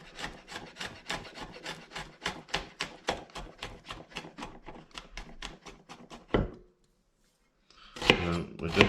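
A knife chops smoked sausage, onion and garlic on a wooden board in a quick, steady run of sharp close taps that stops, leaves a brief silence, then resumes with a few more cuts.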